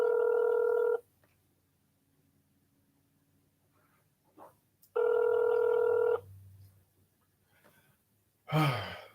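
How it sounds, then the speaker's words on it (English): A transferred phone call rings out as two steady electronic ring tones, each about a second long and several seconds apart, over a faint line hiss, followed by a breathy sigh at the end. "now this option transferred to a ringing phone number is the solution"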